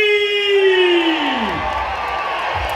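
A crowd at a hot dog eating competition in Sydney responds with a long drawn-out cheer and yelling that falls in pitch, then breaks into broad, noisy crowd roar.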